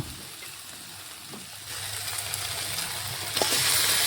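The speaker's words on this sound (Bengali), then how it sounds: "এখন আমি মটনটা দিয়ে দিচ্ছি।" Pieces of salted, turmeric-rubbed mutton go into hot oil with a well-fried spice paste, raising a steady broadband sizzle that swells louder partway through and keeps hissing, with a few faint clinks of a utensil.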